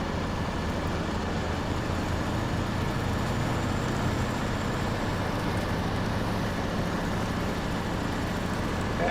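An Avenhorn truck hauling a light generator rolls off-road near Lake Ribiere, Quebec in a driving game, its engine a steady, unbroken drone with rumbling tire and chassis noise throughout and no voices.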